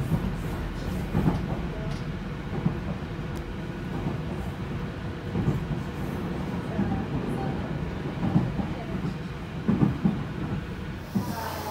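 Riding aboard a JR Gotemba Line train between Kozu and Iwanami, a steady low rumble of the carriage with faint rhythmic clacks and rattles continuing throughout at an even level.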